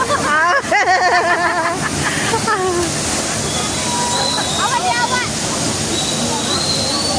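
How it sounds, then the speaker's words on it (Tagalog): Marinig Falls in Davao City pours in a loud, constant rushing roar of falling water with sloshes and splashes, while voices talk and call out over it throughout. "Marinig Falls here in Davao City."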